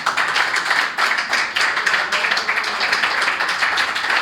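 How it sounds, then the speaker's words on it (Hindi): An audience at a Hindi poetry recital breaking into applause: dense, steady clapping from many hands, loud and sustained throughout without voices. "तालियां बजा सकते हैं आप।"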